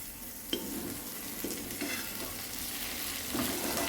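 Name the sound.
brinjal being stirred and fried with a ladle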